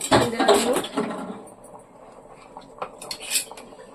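A metal spoon clinks against a pot of simmering fish curry as ginger-garlic paste goes in, several quick bright taps near the start, then lighter scattered clinks over a quiet kitchen background.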